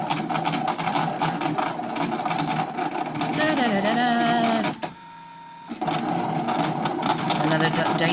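A card-cutting machine whirs and buzzes steadily as it cuts a dinosaur card, stops briefly partway through, then resumes, with a voice talking over the mechanical hum.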